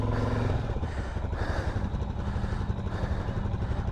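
A 2023 Suzuki Hayabusa motorcycle engine runs steadily in first gear with a deep, even drone that holds at a constant level throughout, close and fairly loud.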